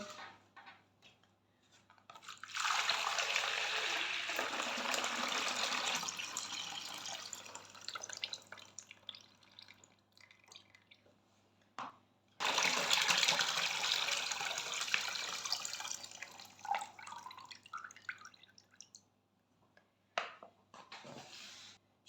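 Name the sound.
draining the first brine water from cracked olives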